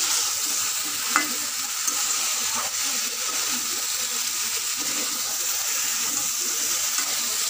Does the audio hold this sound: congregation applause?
no